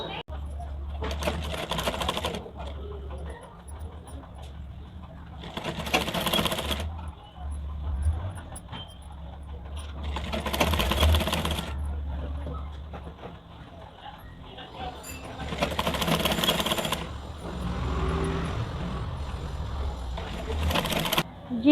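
Sewing machine stitching the sleeve of a full-sleeved blouse, running in several bursts of a few seconds each with pauses between, moderately close, with a steady low hum and background noise throughout.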